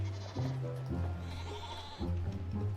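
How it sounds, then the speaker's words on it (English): A lamb bleats several times in quavering calls, fairly close, with a quieter pause between the cries. "That's a baby sheep."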